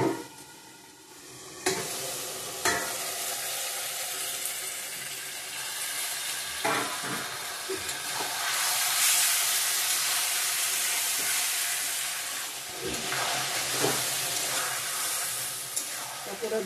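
Chicken pieces with ginger fry for a chicken curry, giving a continuous loud sizzle and hiss up close, broken by occasional clatters and scrapes of stirring.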